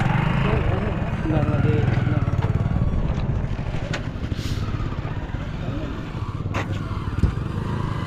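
A motorcycle engine putters along a river crossing during the Narmada Parikrama pilgrimage, a steady near rumble with people talking over it.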